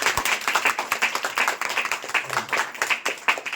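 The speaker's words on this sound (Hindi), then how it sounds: "एक बार इनके लिए और बढ़िया तालियां बजाएं।" An audience claps at a workplace promotion celebration, steady rhythmic applause from a modest group close by, continuing throughout without fading.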